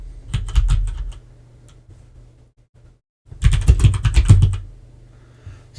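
A move ID is typed on a computer keyboard as two loud, close bursts of rapid keystrokes. A short first run is followed by a near-silent pause, then a longer, denser flurry.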